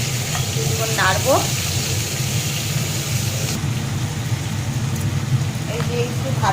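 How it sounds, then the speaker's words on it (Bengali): Potato and drumstick pieces stir-frying in hot oil tempered with cumin seeds, a steady close sizzle with occasional stirring scrapes, and a voice speaking briefly over it. "এই যে আলু আর ডাটাটা দিয়ে দিয়েছি, কিছুক্ষণ নাড়বো"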